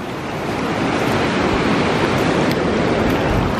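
Ocean surf crashes steadily onto the shore at Hot Water Beach, a loud, continuous roar of breaking waves mixed with wind buffeting the microphone, with no voices.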